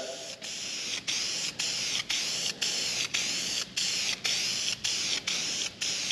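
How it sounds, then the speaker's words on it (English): VHT roll bar paint hisses from an aerosol can in repeated bursts of about half a second, with brief pauses between passes, as a vehicle interior part is sprayed close by. "So the only thing I had in my arsenal was VHT roll bar paint. So we'll just go ahead and get her spritzed up."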